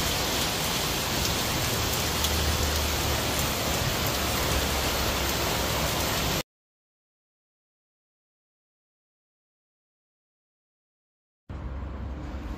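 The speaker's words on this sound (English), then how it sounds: "it suddenly rained heavily" Heavy rain drums steadily on an Arpenas Base Fresh canopy tent, a dense, loud wash that cuts to silence midway and then resumes.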